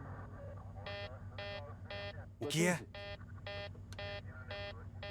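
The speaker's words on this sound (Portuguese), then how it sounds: "Enquanto o Hélios 522 sobe, um alarme soa na cabine de comando." Repeating electronic warning alarm in the cockpit of Helios 522, a Boeing 737 climbing without cabin pressurization, sounding in steady evenly spaced bursts while a voice briefly cuts in partway through.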